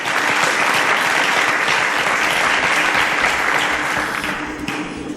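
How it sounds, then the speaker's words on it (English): An audience on a televised academic quiz show breaks into loud, sustained applause for a contestant, the clapping dense and unbroken from start to finish. "A round of applause for Somto"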